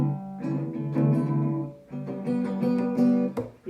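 An acoustic guitar strummed and picked unsteadily by a beginner, loose chords ringing with uneven rhythm and a few pauses, close and fairly loud with no talking.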